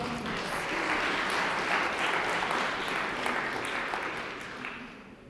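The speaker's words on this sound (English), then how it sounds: "give her a huge round of applause" Audience applause at a TechChill 2019 startup founders' pitch event, a steady dense clapping from a crowd that holds for several seconds, then begins to fade toward the end.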